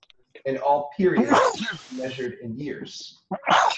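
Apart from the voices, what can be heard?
sneeze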